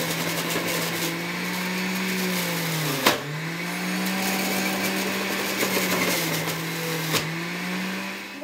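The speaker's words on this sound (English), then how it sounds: "You can put them right in the juicer, stem and all." A juicer grinds whole unpeeled carrots with stems, a steady loud motor whine that dips in pitch whenever a carrot is pushed through, with a few sharp knocks along the way.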